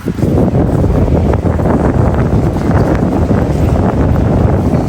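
Strong gusty wind buffeting a microphone outdoors on a Carpathian mountain hillside in autumn, a loud continuous low rumble that goes on without pause.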